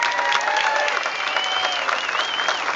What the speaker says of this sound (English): And please give a big round of applause for Senator Bill Seitz.